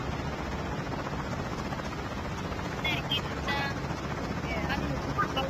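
A helicopter in a squad-based online shooter, its rotor droning steadily and fairly loud throughout, with players chatting over it.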